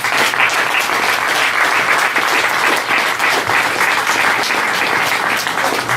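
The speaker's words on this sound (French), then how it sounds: "je m'en voudrais de ne pas demander une main d'applaudissement" An audience at a live music performance breaks into loud, continuous applause, dense clapping filling the whole stretch without any talk.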